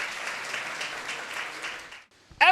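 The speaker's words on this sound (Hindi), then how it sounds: "Let's have a great hand clap for this" A church congregation applauds during an Easter service, sustained clapping that cuts off abruptly near the end before a brief burst of voice.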